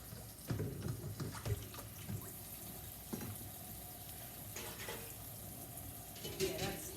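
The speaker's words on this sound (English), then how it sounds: "Get cold water working into this pan." Running tap water splashes steadily into a pan, a continuous watery rush with a few clinks, while a voice talks now and then.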